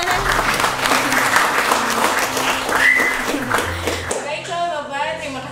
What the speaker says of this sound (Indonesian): Oke, tepuk tangannya dong teman-teman.